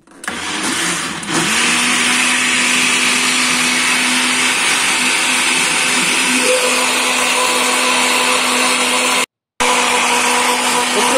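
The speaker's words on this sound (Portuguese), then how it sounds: "vamos bater novamente." A blender roars steadily and loud, whipping peach palm with condensed milk and cream for ice cream, its motor pitch shifting slightly before a brief cutout near the end.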